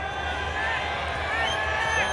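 A crowd fills a cricket ground during a Nepal versus India match, a steady murmur of many voices with occasional whistles and shouts, heard at a distance and continuous throughout.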